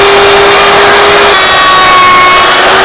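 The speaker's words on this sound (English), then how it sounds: "We'll lock the router in place." A handheld wood router runs loud and steady, trimming the edges of a wooden sign with its bit guided by a bearing against a bushing in a shed workshop; a continuous high whine shifts pitch slightly partway through.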